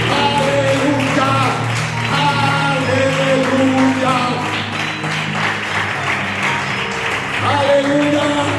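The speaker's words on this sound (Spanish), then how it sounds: "denle un aplauso fuerte a nuestro Dios" A church congregation applauds steadily while music with sustained tones plays underneath, the clapping continuous and moderately loud throughout.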